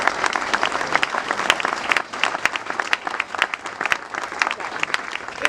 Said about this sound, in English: So let's give Ted and Pat a round of applause.